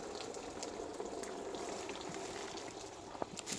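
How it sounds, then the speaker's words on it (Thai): Liquid fertilizer water being poured steadily onto a tray of small vegetable seedlings, a continuous close splashing trickle with a couple of brief sharper drips near the end. "แล้วเอาน้ำปุ๋ยใส่"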